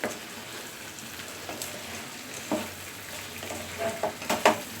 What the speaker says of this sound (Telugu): ఇప్పుడు దీంట్లో చికెన్ వేసుకొని స్టవ్ హై ఫ్లేమ్లో పెట్టుకోండి.